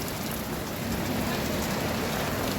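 Monsoon rain falls outside in Mahuva, a dense, steady, even wash of rain noise that stays unchanged for the whole stretch, with no voices over it.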